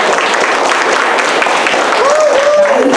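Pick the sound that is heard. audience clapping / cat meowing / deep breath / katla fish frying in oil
audience clapping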